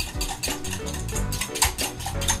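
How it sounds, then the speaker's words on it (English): A spoon clinks and scrapes against a bowl while pickle juice and seasoning are stirred together, with quick, close, repeated metallic taps. "You wanna mix the pickle juice and seasoning until everything melts together and kind of dissolves in your bowl."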